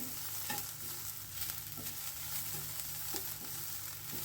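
Ground masala paste fries quietly in a pan with a soft, steady sizzle. Faint spatula scrapes come at intervals, and nobody speaks.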